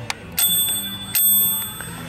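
A Brother portable typewriter's bell rings twice with bright, sustained metallic dings, loud and close, alongside faint mechanical clicks of the machine.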